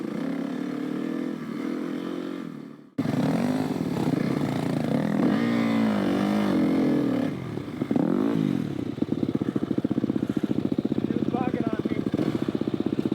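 An off-road motorcycle rides a trail near Oscoda, Michigan, its engine droning steadily and loudly, rising and falling with throttle changes, with rattling chatter later, while a rider talks over it.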